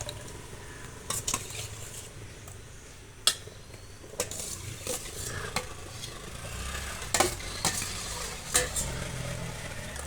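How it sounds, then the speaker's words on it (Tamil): A spoon stirs sugar into watermelon juice to dissolve it, giving intermittent clinks and scrapes against the container at an uneven rhythm over a low background hum, with no talking. "அப்ப நாங்கள் அடிச்சு போட்டு கரைப்போம்."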